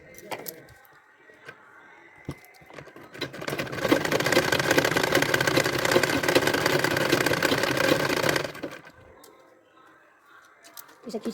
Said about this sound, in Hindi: इसे खींचते हुए करूँगी सिलाई